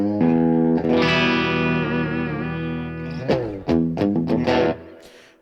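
Sustained electric guitar chords through a Blackstar HT Stage 60 MKII 2x12 amplifier ring out with a lush, washy reverb tail, followed by several short strummed stabs that echo and decay.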